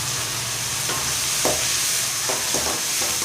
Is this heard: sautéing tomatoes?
yes